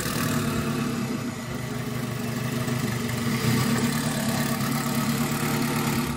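A turbocharged Honda K20 engine in an Acura RSX runs at a steady idle, a low even rumble with a rough mechanical texture and no voices.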